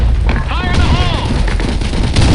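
Grenade explosions go off in the BlackShot online shooter during a clan war: loud, dense booms and bursts of gunfire overlap continuously, while voices shout over the battle.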